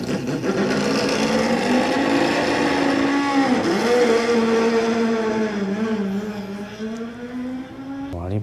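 Four-rotor R26B engine of the 1991 Mazda 787B rotary race car running, a loud, buzzy high-pitched drone that dips and rises in pitch before cutting off abruptly near the end.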